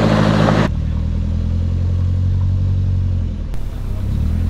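A Suzuki Jimny 4x4 climbs a hill, pulling to a stop and then revving to move on. Its engine is a steady, loud, close rumble with clattering that shifts near the end, and there is no talk.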